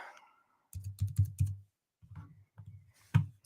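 A computer keyboard clacks in quick bursts of several keystrokes, separated by short pauses, ending with a sharper single strike; close and moderately loud with no speech.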